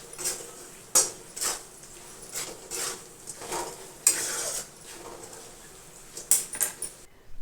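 Boiled potato pieces frying with onions and spices in a pan, a soft sizzle broken by repeated scraping stirs and sharp clinks of a spoon against the pan.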